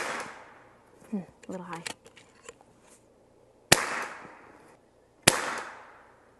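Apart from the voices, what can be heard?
FX DRS Classic .22 air rifle shooting pellets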